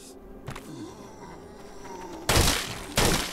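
Two loud, broadband gunshot blasts from the VR zombie shooter Arizona Sunshine ring out about half a second apart near the end, after a stretch of quieter game ambience and a faint earlier thud.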